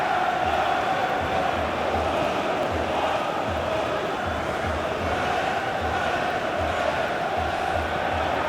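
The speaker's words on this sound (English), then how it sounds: "at least the crowd are appreciative of his efforts" Simulated stadium crowd noise at a Crystal Palace vs Manchester City Premier League match in a football video game, a steady broad roar of cheering and murmur with faint rhythmic low thumps underneath, continuous throughout.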